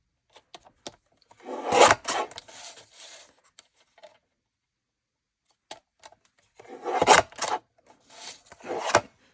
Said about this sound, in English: This is the Tim Holtz trimmer, which I love.